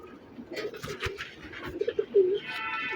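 A feather-footed pet pigeon gives soft, close gurgling coos, a short rolling call rising near the end.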